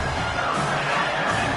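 A stadium crowd at a Georgia college football game roars and cheers in a steady, dense wall of noise during a big third-and-long moment.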